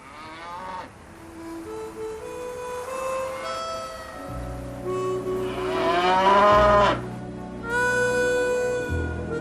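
Frisian cows moo repeatedly, several long drawn-out calls from more than one animal overlapping and rising in pitch, fairly close and loud, with a deeper lowing in between.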